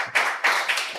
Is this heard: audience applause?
yes